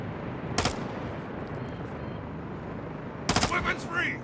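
Gunfire in Modern Warfare 2, heard as two sharp bursts of shots, one early and a louder cluster near the end, over a steady low battlefield rumble with faint background voices.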